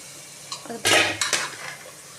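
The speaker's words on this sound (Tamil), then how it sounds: "அதை இதில் போட்டு மஞ்சத்தூள்லாம் போட்டு கழுவி வச்சிடணும்" Goat intestine being washed with turmeric in a metal vessel: close clattering and scraping of the vessel with splashy wet handling, one loud burst followed by lighter knocks, no speech.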